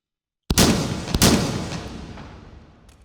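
Competition-style break-action 12 gauge shotgun fired in the VR game H3VR, two sharp loud blasts about 0.7 seconds apart, each with a long decaying reverberant tail, no talking.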